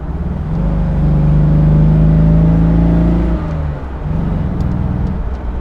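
A Jaguar XK150 roadster engine hums loudly up close, its pitch climbing and then dropping sharply as it downshifts and settles into a lower rumble.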